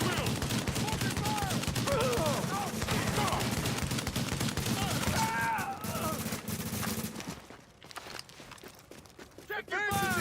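Squad gunfire in The Division, with dense overlapping shots and bursts filling most of the stretch before thinning out, heard alongside voices and game chatter.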